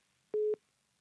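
A single short, steady telephone busy-signal tone sounds alone after the caller hangs up, clear and fairly close.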